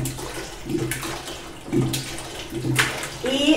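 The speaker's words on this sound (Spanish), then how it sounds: "Vamos a echarle el agüita a la olla." Water is poured into a cooking pot on a home kitchen stove while Mexican food is prepared, a steady splashing stream running for a few seconds close to the mic with some kitchen clatter.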